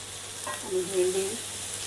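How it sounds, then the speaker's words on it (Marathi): Okra stirred in a hot pan with onion and turmeric, giving a soft, steady sizzle with a brief scraping stir near the middle, close and fairly quiet, with no talk. "5 मिनटं चांगली परतवून घ्यायची."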